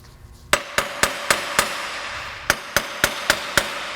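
A hammer strikes a steel U-joint yoke in about ten sharp metallic blows, close and loud, with an uneven rhythm and short pauses between hits.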